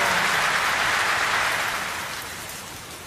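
Heavy rain pours in a dense, steady hiss, loud and close, gradually easing slightly as it continues with no voices over it.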